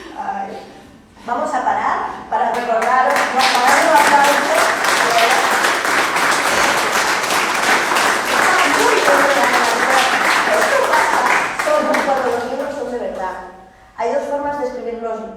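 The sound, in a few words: audience applause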